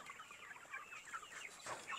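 Hens cluck softly in quick, scattered bursts, several birds close by murmuring over one another against quiet background noise.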